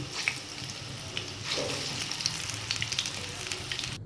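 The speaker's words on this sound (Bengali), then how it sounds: "তেলটা গরম হয়ে গেছে, আমি কোপ্তাগুলো ছেড়ে দেব।" Jackfruit koftas dropped into hot mustard oil in a kadai crackle and sizzle, a soft steady frying hiss with small pops and a brief bubbling swell as pieces go in.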